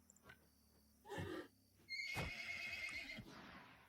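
A horse whinnies in the video game Wartales, a faint shrill neigh rising and falling over about a second, following a couple of soft thuds, with no talk.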